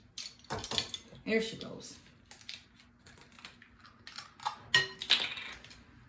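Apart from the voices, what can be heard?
cracking eggs into a bowl and beating them with vanilla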